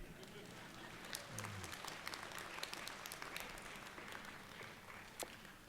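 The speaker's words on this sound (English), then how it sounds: "You can clap, that's great." Distant, faint applause from an audience at a college commencement ceremony, a steady scattered patter of clapping with occasional sharper claps standing out.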